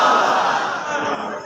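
A large crowd roars a loud, sustained unison chant of Allahu Akbar in reply to a takbir call at a religious naat gathering, the massed voices held for over a second before fading slightly.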